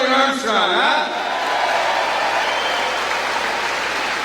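A rally crowd in the Scheels Arena in Fargo, North Dakota, applauds and cheers for Kelly Armstrong, loud sustained clapping after a voice briefly over a PA at the start.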